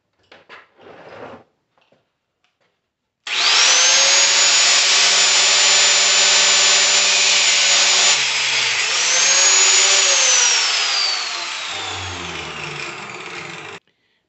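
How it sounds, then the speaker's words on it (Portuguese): A small cutting machine grinds through hard alternator bearing steel in one long, loud, continuous shrieking cut lasting about ten seconds, with the pitch shifting as the disc bites, after a few faint handling knocks. "Para cortar eu uso a maquininha de corte."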